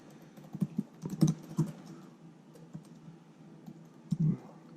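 Typing on a Dell Inspiron 7472 laptop keyboard in short clustered bursts of clicks with pauses between, close and moderately loud, no voices.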